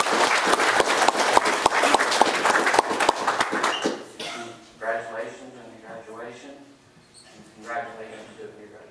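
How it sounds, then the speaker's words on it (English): Church congregation applauding a student headed to university, a dense burst of clapping for about four seconds that ends abruptly, followed by a lone voice speaking over a quiet room. "Let's give applause for"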